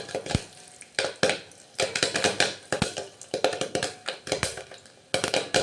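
Popcorn kernels popping inside a covered pot on a gas stove, giving sharp irregular pops and taps in quick clusters, loud and close, with short gaps between bursts.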